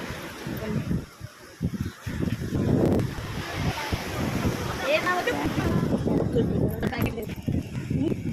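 Ocean waves wash steadily onto Nellore beach under gusting wind noise, with a person talking throughout over the surf.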